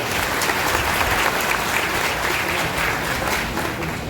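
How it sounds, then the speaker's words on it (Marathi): A crowd at a political rally in Maharashtra bursts into sustained applause, a dense, even wash of clapping that fills the whole moment at steady volume and fades only slightly at the end. "सगळ्यांनी एकदा टाळ्या वाजवा"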